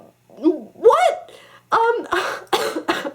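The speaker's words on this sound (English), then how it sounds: "Sorry, I have a bit of a cough." A person coughs several times in quick, rough bursts, close to the microphone, with a short gap after the first coughs.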